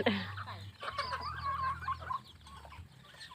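Wet, bedraggled farm chickens cluck and squawk nearby in a rural yard, in a string of short, uneven calls with a low background hum beneath them.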